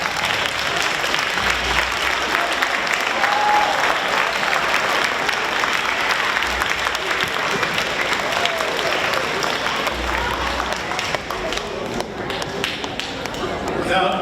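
Parents in the audience at a middle school band festival concert applaud, a dense, sustained clapping from a large crowd that fills the room evenly, with some voices mixed in.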